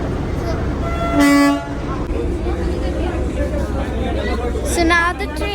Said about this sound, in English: Okay, so now this train over here is going to come on platform number 2.